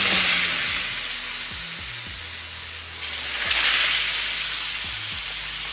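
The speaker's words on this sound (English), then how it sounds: "Always lay your steaks away from you so that the oil doesn't shoot up at you" Steaks laid into hot olive oil sizzle loudly in a pan, a steady close crackling hiss that swells again partway through, with no talk over it.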